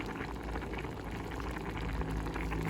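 Rice with meat and onion, seasoned with salt, pepper and seven-spice, simmers in a pot, giving a steady, dense bubbling hiss that holds at an even level throughout with no talking.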